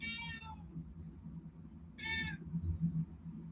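A house cat meows twice at feeding time, two clear, close calls separated by a pause, over faint indoor background rumble and no talk.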